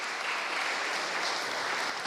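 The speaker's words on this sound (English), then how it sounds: "That deserves another round of applause" A talk audience gives a steady round of applause, moderate and even for about two seconds before a sudden louder thump closes it.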